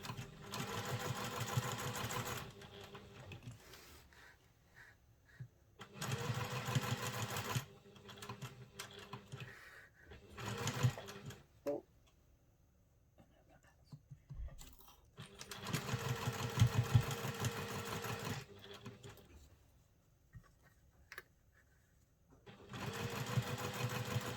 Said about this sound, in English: going to baste all the way round as close to the edge as we can. I'm going to up my stitch length as we are basting.